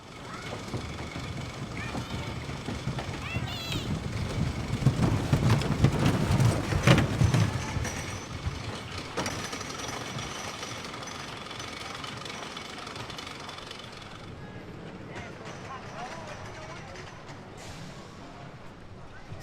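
A wooden roller coaster at Blackpool Pleasure Beach clatters and rumbles loudly over its track, with rattling mechanical noise that swells and then fades. Voices are heard under the noise.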